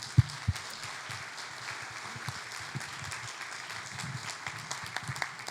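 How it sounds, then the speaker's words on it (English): A room audience applauds at a talk on rescuing the great whales of Baja California, a steady, faint patter of clapping with a few sharper nearby claps, no voices. "A big applause for you for what you're doing"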